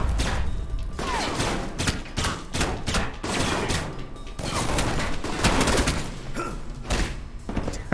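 Gun turrets in Alpha Protocol fire a dense run of sharp bangs and thuds, loud and close, in irregular bursts across the whole stretch, with no voices.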